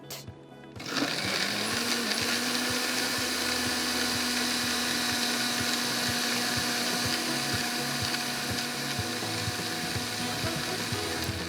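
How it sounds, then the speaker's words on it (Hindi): A kitchen blender whirring steadily as it mixes a vanilla protein shake with milk and condensed milk, starting abruptly and holding a constant, fairly close motor drone with rhythmic churning throughout. "सारी चीज़ों को अच्छा सा हम कर लेंगे ब्लेंड"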